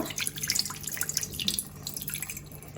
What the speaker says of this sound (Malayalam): അതിലേക്ക് കുറച്ച് വെള്ളം ഒഴിച്ചു കൊടുക്കുക.